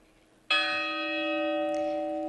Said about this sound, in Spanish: Esa campana que acaba de sonar supongo que es la del Carmen de San Isidoro.